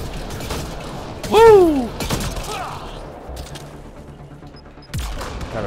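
Shotgun blasts in the video game Mass Effect Andromeda, a couple of sharp booming shots with a player's brief shout over ongoing game sound.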